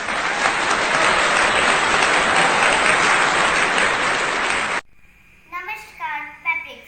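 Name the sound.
audience applause welcoming a child poet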